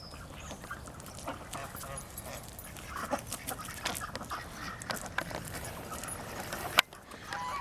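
Dogs chase newly introduced roosters in a farmyard flock, with busy jangling, yips and bird calls scattered throughout and a sharp clatter near the end; a person's voice is faintly present.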